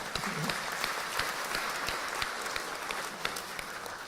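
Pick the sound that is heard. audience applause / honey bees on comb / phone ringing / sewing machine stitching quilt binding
audience applause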